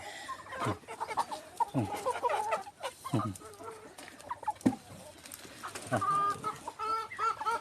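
Many chickens cluck around an outdoor yard with scattered sharp calls and squawks, moderately close, ending in a burst of rapid harmonic clucking.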